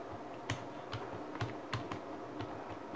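Someone typing an address into a computer keyboard, a sparse series of light, quick key clicks at an uneven pace, quiet and close with a faint hum behind, and no speech.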